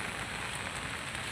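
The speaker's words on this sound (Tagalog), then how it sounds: "Umuulan na, oh." Steady rain falling near a bridge, a dense even hiss of drops on surfaces with no talk over it.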